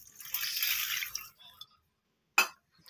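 Milk poured into a banana apple shake already mixed with sugar, a steady liquid pour of about a second and a half, followed after a pause by a short splash or clink.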